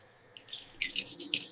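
Water runs and splashes as rice is washed in a sink, with a quiet start giving way to steady swishing and splashing bursts, close and alone with no voices.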